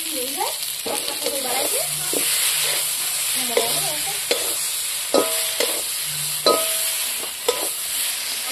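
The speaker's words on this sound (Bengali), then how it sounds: "এখন আমি সিদ্ধ আলুটা ভেজে নিয়েছি," Boiled potato fries in a pan with a steady close sizzle, broken by stirring scrapes and clicks. A faint voice is heard underneath at times.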